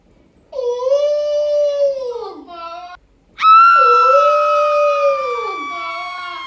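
Jackals howling at night near a large banyan tree, two long rising-and-falling howls with clear harmonic wails, close and loud, separated by a short break.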